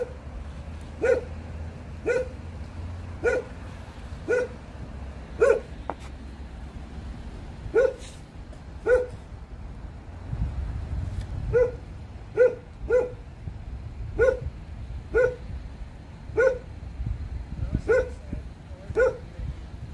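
A dog barks repeatedly at a distance, steady single woofs every second or so over a low outdoor rumble, continuing throughout.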